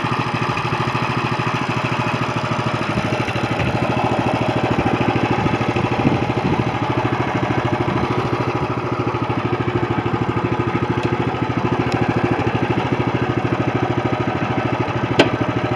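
A Coleman CT200U mini bike's small engine runs steadily for the whole stretch, a close, even buzzing drone with a few faint clicks and no talking.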